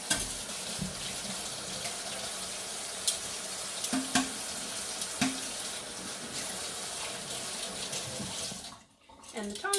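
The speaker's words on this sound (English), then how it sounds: "Wash my tongs." Metal kitchen tongs are rinsed under a running tap, water splashing steadily into a sink with a few clinks as the tongs knock against it before the flow briefly stops.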